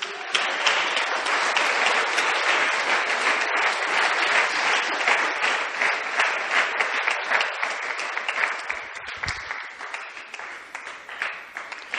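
A church congregation applauds loudly and continuously for a long stretch, the dense clapping of many hands filling the room before it thins slightly toward the end.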